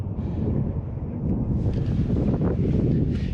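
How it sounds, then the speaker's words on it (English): Steady wind roaring and buffeting a microphone outdoors beside a 2023 Tesla Model 3 in freezing weather, a continuous low rumble that swells slightly louder partway through. "It is windy."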